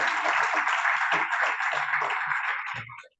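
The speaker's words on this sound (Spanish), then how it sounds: "un fuerte aplauso para Jerónimo" Applause for Jerónimo at a book launch, a steady bright wash of many clapping hands for about three seconds that fades out at the end, with faint voices beneath.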